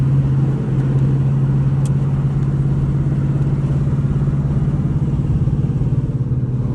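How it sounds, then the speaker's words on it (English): A Dodge Charger with a cammed 5.7 engine and a leaking exhaust drones steadily at freeway speed, a loud continuous low rumble close by with no talk over it. "that exhaust leak is insane"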